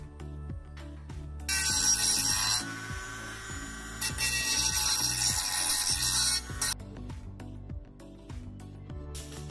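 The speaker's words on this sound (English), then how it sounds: "I am cutting off a small section of the metal using a hacksaw." A hacksaw cutting a small section off a metal piece, making two bursts of harsh, rasping back-and-forth strokes, close and fairly loud, separated by a short pause and mixed with background knocks.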